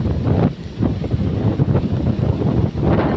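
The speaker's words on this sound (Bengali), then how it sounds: "বাতাস হচ্ছে প্রচুর পরিমাণে।" Strong gusting wind ahead of a storm in a cloudy, darkening village, roaring steadily across the microphone in loud buffeting rushes with no speech.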